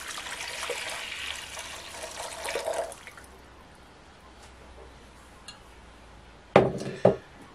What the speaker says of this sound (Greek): Σε μια κατσαρόλα θα βάλω 1 λίτρο νερό.